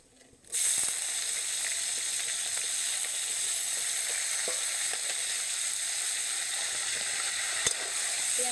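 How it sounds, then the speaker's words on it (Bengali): Onion paste fries in hot oil with whole cumin, a dried red chilli and a bay leaf, bursting into a loud, steady sizzle after a brief quiet start, with a few faint clicks of a spoon against the pan. "পেঁয়াজটাকে হালকা লাল লাল করে ভেজে নেব"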